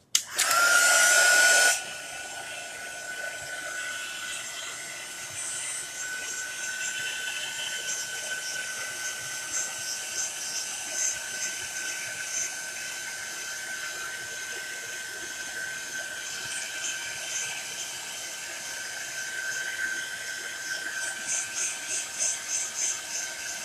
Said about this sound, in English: So I'm going to grab the heat gun really quick, and it's going to get a little bit loud.